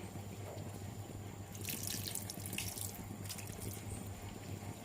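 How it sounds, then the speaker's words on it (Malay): Water trickles and splashes into a pan of soy sauce chicken, a soft steady pour that swells for a few seconds and then eases off. "Kita tambah lagi sedikit air"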